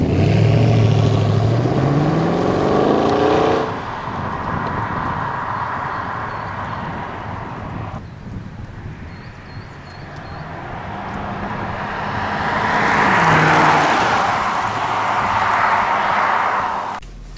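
A Mercedes E63 AMG W212 with its V8 engine roars and revs up loudly, then settles into a lower idle and swells again in a second rising pull, close and unaccompanied by talk.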